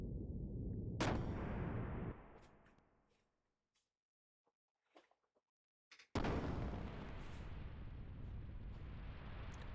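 Cannon fire from a ship's gunner in the Xenogears video game: a sharp heavy blast sets off a long rumbling roar that fades to near silence, then another loud blast erupts and sustains a dense, booming rumble.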